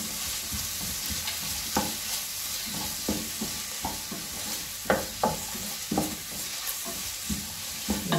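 Onion with ginger garlic paste sautéing in a pan for egg biryani, a steady soft sizzle broken by repeated scraping and stirring strokes of a spoon against the pan, close and alone with no voices.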